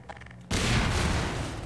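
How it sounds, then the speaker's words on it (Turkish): A land mine explodes in Half-Life 2: a sudden loud blast after a brief quiet moment, followed by a broad rumbling roar that slowly fades. "Aha, mayın patladı."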